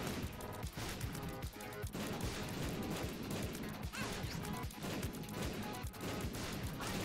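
Explosions in the modded Binding of Isaac Repentance video game, a dense run of repeated blasts and crashes over loud game music throughout, near and continuous.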